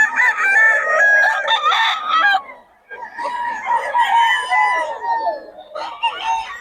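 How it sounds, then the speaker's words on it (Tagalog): Several gamefowl roosters at a festival expo in Pangasinan crow loudly and close by, one long call followed by overlapping crows after a brief pause, with some clucking mixed in. "Mga manok ni Boss Fly."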